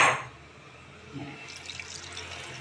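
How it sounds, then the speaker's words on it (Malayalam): Water runs steadily from a tap into a cooking pot, a continuous splashing hiss after a brief louder burst at the start. "വെള്ളം അതിൽ മുങ്ങി കിടക്കുന്ന മാതിരി ഒഴിക്കണം"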